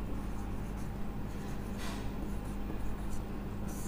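Steady writing on a board during a chemistry lecture on chemical changes, a continuous faint scratching of the solution being written, with no talk, over a constant low room hum.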